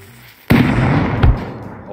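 A grenade explodes in Rust, blowing up a wall. A sudden loud blast is followed by a rumbling debris roar, with a second heavy thud about a second later as the structure collapses.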